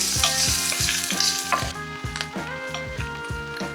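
Shrimp and garlic stir-fry in a hot wok, a loud steady sizzle broken by rhythmic scraping strokes of the spatula every half second or so, with no voices.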